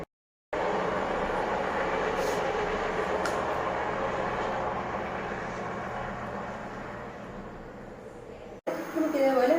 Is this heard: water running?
no